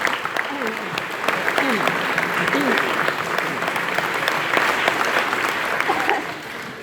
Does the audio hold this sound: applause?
yes